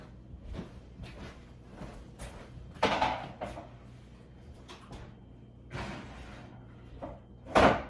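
Home kitchen oven holding pumpkin muffins in pans: a series of soft clanks and thuds as the door is opened, trays slid in, and the door shut with a firmer slam at the end, close and moderately loud.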